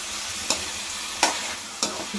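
Chicken chops fry in a pan with a steady close sizzle, broken by three sharp scrapes as a spoon stirs the pieces.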